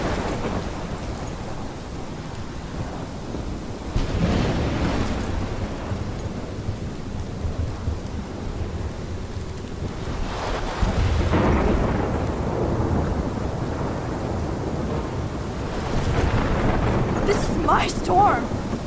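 Thunderstorm in the Life Is Strange video game, with steady heavy rain and several deep rolling thunder rumbles, the loudest swelling around mid-clip, with brief voices near the end.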